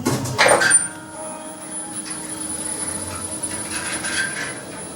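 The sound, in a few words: ThyssenKrupp lift doors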